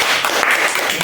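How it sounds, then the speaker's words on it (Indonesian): A classroom of students claps together for a presenting group during a teacher-training lesson, a short dense burst of applause that fills the room. "kasih tepuk tangan untuk kelompok visual"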